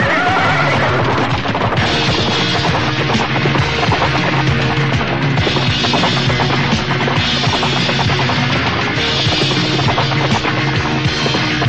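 Galloping racehorses neigh and whinny loudly over a dense, continuous drum of hooves, a busy, close, unbroken clamor with no speech.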